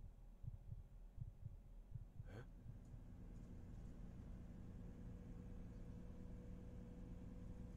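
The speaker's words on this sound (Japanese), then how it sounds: "なんか心臓の音しない？ 心臓の音する ね。" A low, soft heartbeat sound effect in a Jujutsu Kaisen themed game, a few muffled thumps early on, then fading into a steady low hum.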